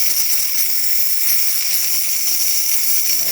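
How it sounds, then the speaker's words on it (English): A DeLonghi Prima Donna espresso machine's steam wand hisses steadily after a repair, a loud, continuous, high airy jet of steam with no talk. "As you can see, steaming properly, excellent temperature, and excellent pressure coming out of the machine."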